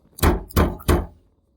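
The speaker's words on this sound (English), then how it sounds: "there's a loud rapping at her door." Three loud, heavy knocks on a door, evenly spaced and booming close up, then silence.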